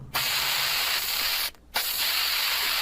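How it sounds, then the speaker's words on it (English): A spray paint can hisses against a wall in two long, loud, close bursts, separated by a short pause, with no voices. "Next, he's got Chris grabbing spray paint cans and vandalizing walls"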